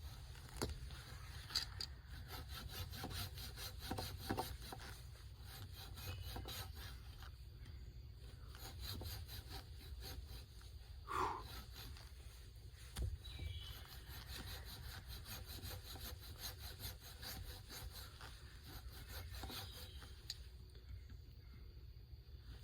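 A small handsaw rasps into wood while cutting slots for a bushcraft log cabin, quick repeated back-and-forth strokes in bursts with brief pauses, close and soft, with no talking.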